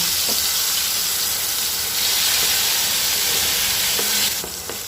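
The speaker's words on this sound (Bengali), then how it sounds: "তারপরে পটলগুলো হালকা করে ভেজে নেব" Pointed gourds sizzle and crackle in hot mustard oil, a loud steady frying hiss close by, swelling slightly midway with occasional soft clinks.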